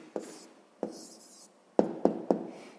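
A pen taps and scratches on paper while a sixth-grade math answer is written out, with two isolated strokes followed by three quick ones close by.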